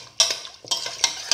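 A spoon stirs a mixture of water and ingredients in a pressure cooker pot, giving a few quick scraping, clinking strokes in a short burst close by, with no talk.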